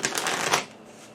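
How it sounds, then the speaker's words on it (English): A deck of cards is given one quick riffle shuffle, a brief close burst of fluttering clicks that fades out within about a second. "Let's give this a quick shuffle"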